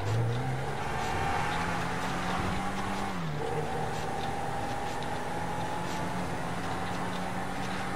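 Car driving in GTA 5 on PS3, a steady engine drone whose pitch climbs early, then dips and settles into an even cruising hum, close and continuous, with no talk over it.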